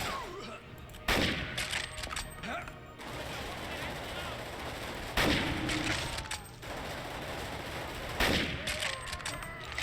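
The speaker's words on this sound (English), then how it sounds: "Where's that guy shooting from?" Gunfire in the video game NecroVisioN: Lost Company, with sharp bursts of shots and a continuous battle din, heavier volleys striking at intervals while someone talks over it.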